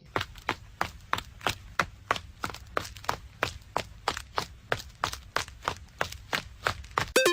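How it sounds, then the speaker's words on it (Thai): A person running on a hard surface, with quick, steady, evenly spaced footfalls, close and clear, continuing throughout with no talk. "เฉลยก็คือเสียงของคนวิ่ง"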